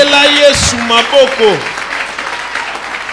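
A seminar congregation applauds Jesus, a burst of clapping from the crowd that swells briefly and then thins while a voice speaks over it.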